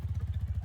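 A motorcycle engine in the video game Minecraft idles in a steady, fast pulsing low rumble, a short loop of even throbs with no speech.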